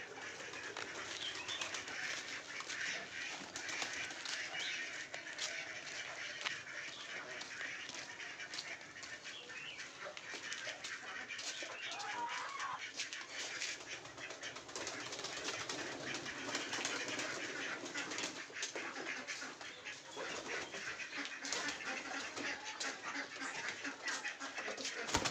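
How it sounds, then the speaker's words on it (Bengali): A flock of pigeons released from their loft: continuous faint cooing and fluttering wingbeats, fairly distant and steady, with no talking. "দেখুন আমাদের পায়রাগুলো সব ছেড়ে দিয়েছি"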